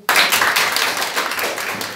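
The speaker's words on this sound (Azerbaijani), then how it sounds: "bir həyəcan alqışı" A group of children at a classroom quiz burst into dense, lively clapping that starts abruptly and carries on loud and close for about two seconds.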